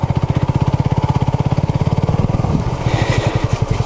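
A Honda CB250RS motorcycle engine pulses loudly and steadily close by while the bike is ridden off road along a slippery, muddy, flooded green lane, with the throbbing firing note rising slightly near the end.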